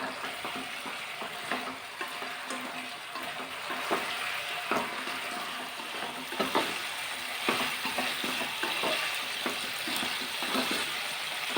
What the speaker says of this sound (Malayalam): ഇതിലേക്ക് ഞാൻ ഫ്രൈ ചെയ്തത് ചിക്കൻ ഇട്ട് കൊടുക്കാം. നന്നായിട്ടൊന്ന് മിക്സ് ചെയ്ത് കൊടുക്കാം.